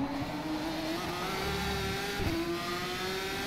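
A race car engine screams at high revs in the rFactor 2 sim racing game, pitch rising steadily, then dipping briefly under braking before climbing again, loud and continuous.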